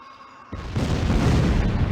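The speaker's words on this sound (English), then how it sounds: "Oh! Explosions!" A sudden deep boom bursts in after a quiet moment, then a loud rumbling roar that sustains and fills the rest of the clip: explosions in the video game Command and Conquer.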